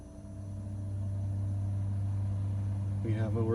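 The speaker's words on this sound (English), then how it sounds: "I hear the compressor going." A low, steady mechanical hum as a DC fridge compressor starts and settles into a constant drone in a hiker trailer, with someone speaking briefly at the end.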